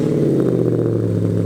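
Renault Clio RS200 track car engine running loud and close, a steady, droning mid-pitched exhaust note with a slight rise in revs and no voices over it.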